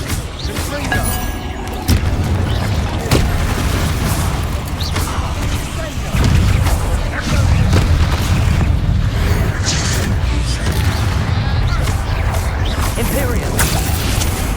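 Confringo explosion spells cast in the Hogwarts Legacy video game: repeated loud booming blasts and crashing bursts over a dense, continuous game soundscape with voices shouting spell names.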